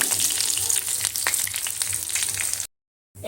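Potato pieces fry in hot oil for chicken dum biryani, giving a loud, close, continuous sizzle with light stirring that cuts to sudden silence near the end before briefly resuming.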